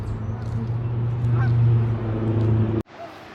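A flock of ducks on a Georgia golf course calling together in a continuous, honking chorus that cuts off abruptly near the end.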